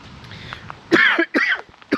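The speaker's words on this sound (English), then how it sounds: "Yep, good coughs" A man gives several rough, raspy coughs in close succession, loud and near, with a quiet gap between bursts and no talking over them.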